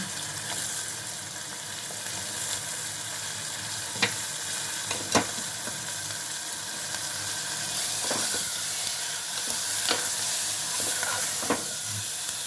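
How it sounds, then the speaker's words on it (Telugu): Small cleaned fish sizzle in hot oil in a pan, a steady crackling hiss broken by a few sharper pops, close and continuous with no talking. "మెత్తాలు కూడా ఆయిల్లో ఫ్రై అవ్వాలి"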